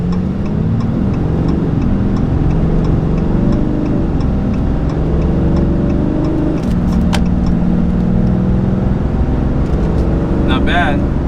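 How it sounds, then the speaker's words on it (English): A 2021 RAM 2500 Cummins diesel pickup accelerating from a standstill to 60 in traffic, its engine droning loudly and steadily with gear shifts, heard from inside the cab. "So now we're gonna do a 0 to 60 run here, okay? Truck is warmed up."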